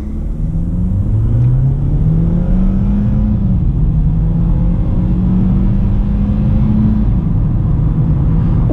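Kia Cerato of about 130 hp accelerating hard from standstill with the pedal floored, a steady loud engine drone rising in pitch through gear changes, heard from inside the cabin with no talk.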